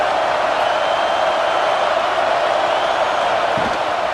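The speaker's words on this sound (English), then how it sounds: "This crowd ready to make its presence known." Stadium crowd noise from a College Football 26 Penn State vs UCLA game forms a dense, steady roar throughout, loud and unbroken with no distinct voices.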